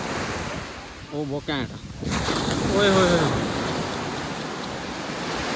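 Sea waves breaking on a Dubai shore, a washing surf roar buffeted by wind against the microphone, with a person briefly exclaiming partway through.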